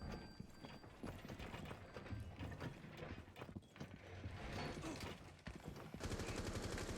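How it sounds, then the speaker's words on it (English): Gunfire crackles through a Rainbow Six collegiate esports match, with rapid bursts of shots and mechanical clatter layered over dense game noise that builds louder toward the end. "You hear gunshots."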